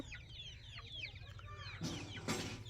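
Two roosters, each over three kilograms, cluck and chirp in short bursts, close and busy, with a couple of brief rustling noises near the end.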